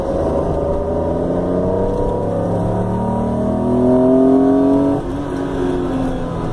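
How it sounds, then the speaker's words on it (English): A car engine with individual throttle bodies growls steadily from inside the vehicle, its pitch rising as it revs up, then dropping abruptly as the throttle lifts. "you can hear the ITBs, but they definitely have quite a nice growl."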